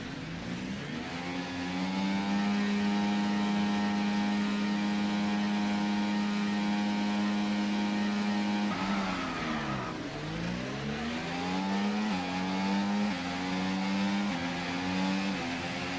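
A race car engine in a racing video game during practice starts, holding a loud steady high-revving drone, then dipping and climbing again as revs drop and rise, no talk.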